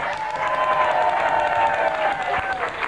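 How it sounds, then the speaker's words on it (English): Studio audience applause and cheering on a live TV show, a steady dense wash of clapping with crowd voices mixed in, loud and continuous throughout. "Round of applause for Werther's."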